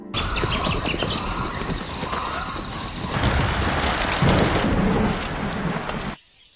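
Heavy rain pours down with thunder rolling through it in the wild outdoors, a loud continuous hiss with rumbling swells and a bird faintly heard, cutting off abruptly near the end.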